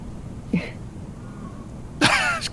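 A short throat-clearing cough, then a louder harsh cough about a second and a half later, close and alone.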